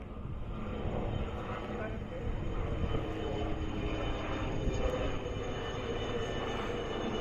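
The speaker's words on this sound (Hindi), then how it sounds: "देख सकते हैं आप लोग, हेलीकॉप्टर से जा रहे हैं।" A helicopter flying overhead gives a steady, moderately loud engine drone that fills the background while people talk.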